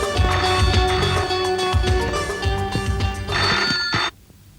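A telephone bell rings loudly in repeated bursts, then cuts off abruptly near the end.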